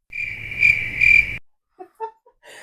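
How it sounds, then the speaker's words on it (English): Two loud, close cricket chirps as a comedic sound effect, each a high trilling burst under a second long, followed by silence and a few faint short sounds. "Those crickets right there."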